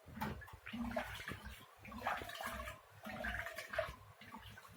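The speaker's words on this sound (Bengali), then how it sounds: "এই তো আমি চাইল আর মসুর এই যেভাবে আমি ধুয়ে পরিষ্কার করে নিচ্ছি" Rice and red lentils being washed together by hand in a pot of water, close sloshing and swirling in repeated waves with short pauses between, quiet and without voices.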